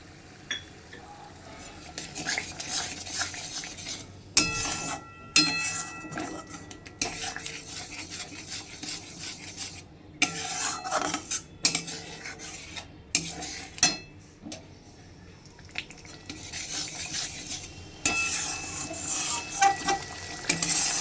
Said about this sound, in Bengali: এবার এর মধ্যে আমি দিয়ে দেবো ওই ফেটিয়ে রাখা টক দইটা।